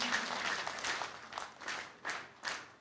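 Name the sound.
applause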